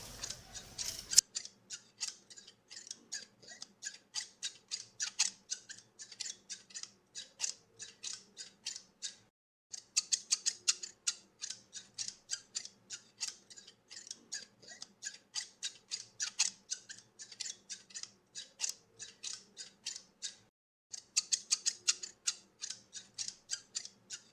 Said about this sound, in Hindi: अब ये आप एक शार्प कैंची लेंगे और उस कैंची से इन छिलकों को छोटे छोटे भागों में काटेंगे।